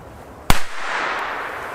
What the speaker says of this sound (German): Wir beginnen mal jetzt mit dem Pyrocracker-Test und wir starten mit dem letzten alten Bopiep-Label